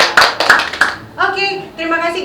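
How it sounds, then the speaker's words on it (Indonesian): Studio audience at an Indonesian pop talk show claps briefly in a few sharp bursts, then a host's voice takes over. "Silakan tepuk tangan dulu dong."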